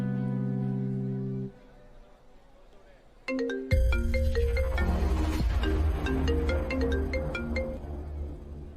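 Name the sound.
phone ringing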